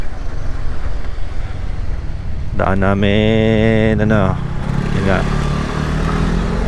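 Steady engine and road noise from Yamaha Fazzio scooters riding on a national highway, with a passing vehicle's rising whine, while someone talks over the drone.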